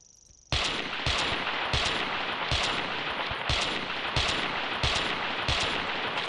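Loud gunfire in the video game Carnivores Triassic: sharp shots fired at a Plateosaurus at an even, rapid rhythm, each with a short ringing tail, heard alone without talk.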